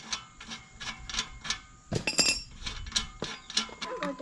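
A wrench works loose a tight O2 sensor in the factory exhaust pipe of a Can-Am X3, producing close, repeated metallic clicks and clinks in a steady ratcheting rhythm, with a louder clanking burst midway.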